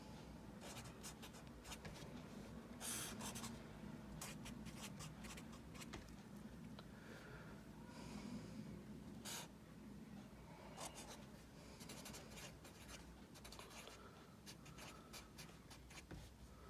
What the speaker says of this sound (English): I'll just write that down.